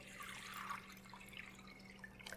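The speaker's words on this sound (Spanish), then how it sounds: "lo primero que voy a hacer es agregar 1 litro de agua a mi sartén" Water, about one litre, poured into a pan or small pot for making corn-masa atole, a faint, steady splashing wash that runs the whole time with no voices.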